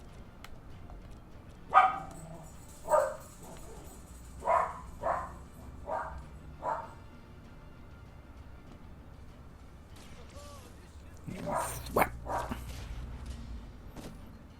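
Several dogs bark in short separate bursts, a handful of sharp woofs spaced a second or so apart, then a pause and a final louder cluster, heard at moderate distance over a quiet background.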